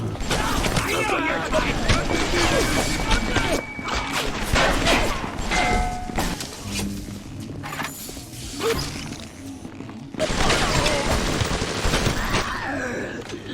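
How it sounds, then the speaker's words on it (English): Rapid machine-gun bursts firing anti-personnel rounds in the shooter Bioshock, loud and sustained with clanks and crashes mixed in, stopping for brief pauses and then resuming, with talk over the gunfire. "the machine gun with AP rounds is... oh, anti-personnel rounds is pretty good"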